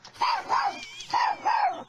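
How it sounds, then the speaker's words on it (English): A small three-legged dog growls and gives short rough vocalizations while walking back up the steps to a house, four close, brief bursts in quick succession. "You can hear the growl, the slight growl as the dog's walking back up the steps"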